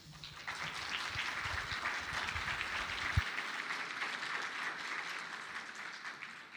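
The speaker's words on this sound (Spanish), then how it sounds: "Un cordial aplauso," Steady, moderately quiet applause from an audience at an academic keynote lecture, a mass of hand claps holding evenly for several seconds with no speech over it.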